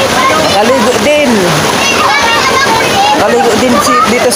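Loud splashing of people bathing in a river, continuous churning water with children's voices and shouting mixed throughout.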